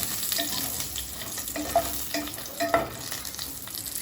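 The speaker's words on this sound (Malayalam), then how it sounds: "ഇത് കുറച്ചൊന്ന് വഴറ്റുക." Chillies sautéing in a pan: a steady soft sizzle with occasional light stirring scrapes, fairly quiet and close, with no voices.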